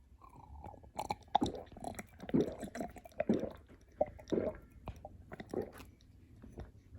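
Loud, close chewing and swallowing noises with wet, crunchy bites and gulps repeating irregularly, no talking.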